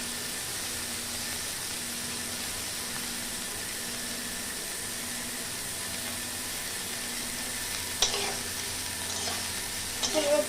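Cauliflower florets fry lightly in oil, a steady, even hiss of sizzling that runs throughout, with a couple of faint clatters from stirring toward the end.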